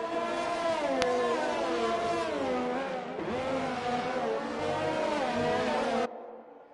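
McLaren race cars in a racing video game, a steady high-pitched engine whine rising and falling through gear changes, several cars close together, cutting off abruptly near the end.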